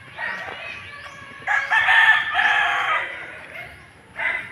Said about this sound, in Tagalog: Mga panabong natin na manok